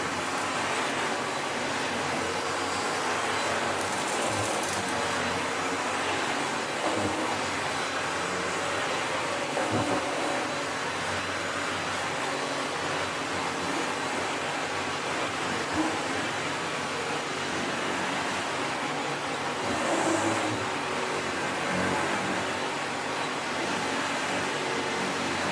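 A Sebo Felix upright vacuum cleaner with a replaced cable runs steadily, giving a continuous even motor whir with broad airy rush that holds at a constant level throughout.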